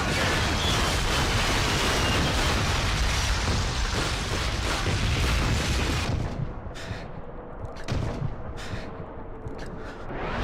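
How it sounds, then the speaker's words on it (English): Heavy artillery explosions and booming blasts in a PS2 war video game, dense and loud for several seconds before thinning into scattered distant bursts. "You hear the incoming whistle of the artillery? The explosion will not be far off."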